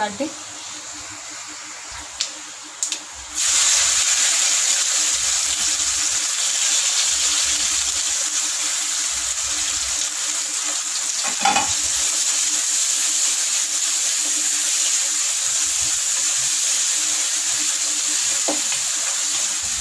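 Chopped onion dropped into hot mustard oil for tempering in a Bihari village-style kitchen, starting with a sudden loud sizzle that then holds as a steady, close, hissing fry. A few faint clinks come before it.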